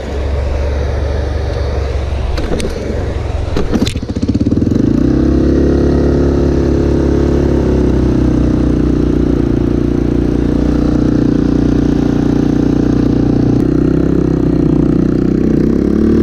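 A trike engine cranks with a few sharp mechanical clicks, then fires and settles into a loud, steady, close-up idle that runs continuously with a deep rumble.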